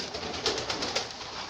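Pigeons coo softly in a loft, a steady low murmur with a few slightly louder calls repeating through the short stretch and no voices.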